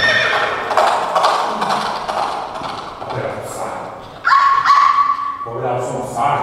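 At a fairy-tale show at Bojnice Castle, a horse neighs loudly and shrilly up close, with hoof clip-clop, a dog barking and people talking around it.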